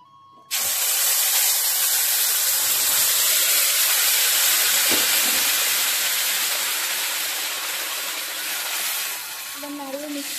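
Spices and three medium bay leaves hit hot oil for a tempering with a sudden loud burst of sizzling, then hold a steady, close hiss that fades slightly toward the end as a voice speaks briefly.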